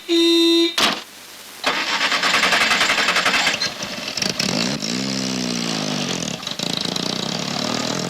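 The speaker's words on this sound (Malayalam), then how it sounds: "വാസു, ആ വണ്ടി ഒന്ന് തിരിച്ചിട്ടെ." A car starts and pulls away loudly, its engine note rising and changing pitch as it drives off, with a short tone and noise at the start and no talk over it.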